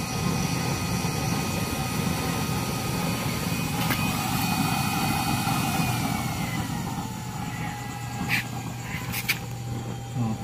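A used-oil burner stove with 24 holes roars steadily during a fire test, a loud continuous rumbling whoosh with a few faint clinks and brief whistling tones on top, and no clear talking.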